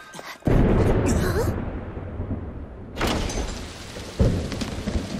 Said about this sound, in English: they summoned rain. But they overdid it and created a storm instead